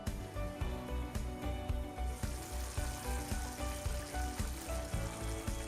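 Bottle gourd gravy simmers in a covered pan, giving a soft, continuous bubbling sizzle with a gentle pulsing rhythm, faint and close, with no talk.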